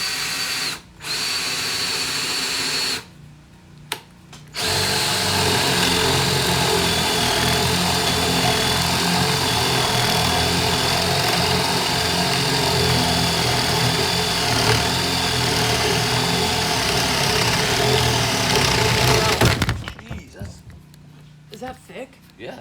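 A power drill with a 1-inch bit drills into wood, running steadily for about fifteen seconds, a loud continuous whine and rumble, bracketed by brief starts and stops at the beginning and end.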